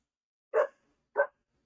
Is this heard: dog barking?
yes